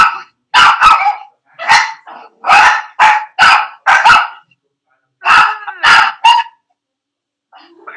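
Two small dogs bark at close range in sharp, loud bursts, several quick yaps in clusters and then a pause, with a faint bark at the end.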